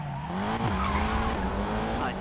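In the racing game Need for Speed Payback, a car engine roars steadily and loudly while its tires squeal and skid throughout. A voice can be heard faintly in the mix.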